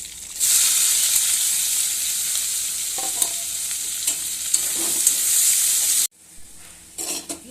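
Chopped onion and garlic, added after cumin seeds and bay leaves, fry in hot oil with a loud, steady sizzle and occasional stirring clinks; the frying cuts out abruptly near the end, leaving quieter kitchen clatter.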